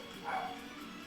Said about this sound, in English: Sorry, my dogs are barking.